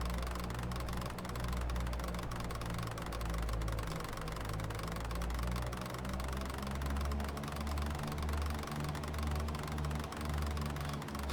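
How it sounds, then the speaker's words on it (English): Blown engine of an Akoya seaplane in the flight simulator X-Plane 11 knocking and rumbling, a steady low pulsing clatter with a rough mechanical drone, loud and continuous with no talk. "Sounds like the engine is blown"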